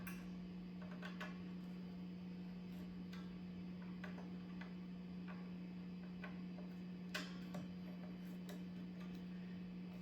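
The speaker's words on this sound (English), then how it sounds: "I'm going to start turning the screws on the claw." Screws on a Floyd Rose tremolo spring claw being turned under spring pressure: faint, scattered light clicks and ticks at an uneven pace, sitting over a steady low electrical hum.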